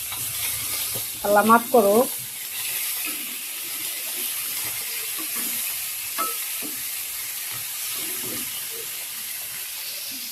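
A chicken roast spits and bubbles in a pan with a constant hiss, sprinkled with small pops, while a voice briefly exclaims near the start.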